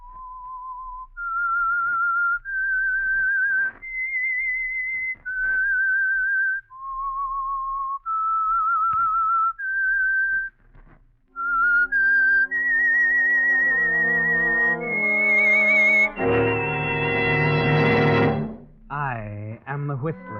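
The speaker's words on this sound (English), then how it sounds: "That whistle is your signal for the Signal Oil Program," Whistled theme melody for The Whistler radio drama, a solo human whistle carrying a slow tune of sustained notes, joined midway by an orchestral swell that builds loudly before fading.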